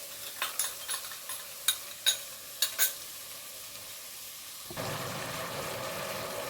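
Masala mixed with yogurt in a wok: several distinct scraping stirs and taps of a spoon over a faint background, then a steady louder sizzle takes over in the final seconds.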